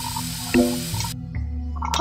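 A spray bottle hisses in the Rizzoli & Isles: The Masterpiece Murders point-and-click game, a steady close spray lasting about a second before cutting off abruptly.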